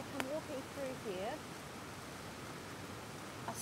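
Steady rain falls on a woodland camp as a soft, even hiss that holds throughout, with a faint voice-like murmur early on.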